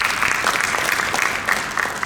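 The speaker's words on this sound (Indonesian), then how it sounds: "Tepuk tangan buat kita semuanya." At a real estate association's regional meeting, a crowd in a hall gives a loud, dense round of applause with steady clapping throughout, and no talking over it.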